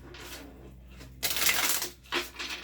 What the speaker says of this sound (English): Shuffling 2 more times.